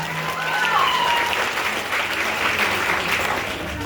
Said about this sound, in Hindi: एक जोरदार तालियां सबके लिए होनी चाहिए।